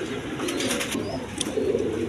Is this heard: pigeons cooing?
yes